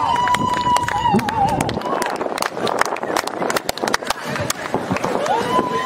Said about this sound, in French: Je vous en prie, applaudissez fort.